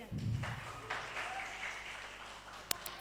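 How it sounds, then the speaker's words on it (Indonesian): An audience applauds two candidates at a debate for the PMII Lumajang chair. The clapping is steady and fairly close, with a low rumble underneath and a single sharp clap standing out near the end. "Beri tepuk tangan untuk 2 kandidat."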